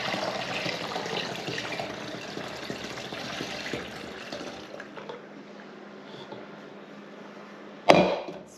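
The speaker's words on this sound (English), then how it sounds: "So we're just going to get this poured into a jug." Cultured buttermilk pours into a jug with a steady liquid gurgle and splash for several seconds, tapering off before a sharp knock near the end, close and fairly quiet.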